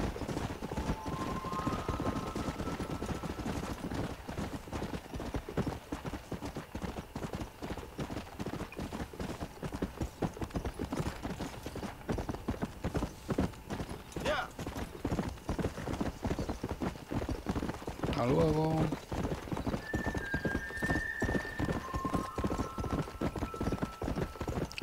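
Horse hooves clip-clop at a steady gallop in the video game Red Dead Redemption, a continuous rhythmic pounding that runs throughout, with occasional whinnies and game sounds layered over it.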